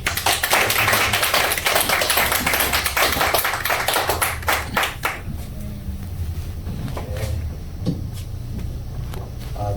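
A church congregation at a monthly fellowship gathering claps together. Dense clapping fills the first half, then quickly dies away into a few scattered single claps over a low room hum.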